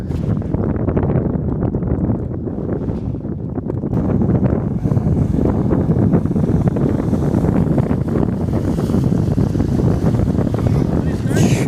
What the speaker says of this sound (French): Ils arrivent. On entend le bateau.